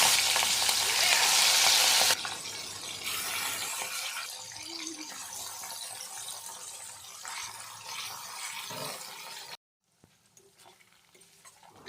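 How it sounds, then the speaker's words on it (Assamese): Prawns coated in turmeric and salt fry in mustard oil in a kadai, giving a loud, close sizzle at first that settles into a steadier, softer crackle before cutting out near the end. "এতিয়া মিছা মাছখিনি মই ভাজি ল'ম।"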